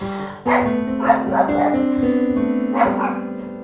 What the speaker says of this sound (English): Shut up, dogs.